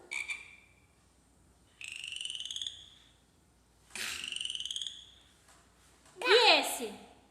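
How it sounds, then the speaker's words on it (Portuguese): A frog croaking in a children's animal-sounds activity: three drawn-out, buzzy croaks spaced a couple of seconds apart, then a louder, harsher burst at the end, close and clear with no speech over it. "O sapo."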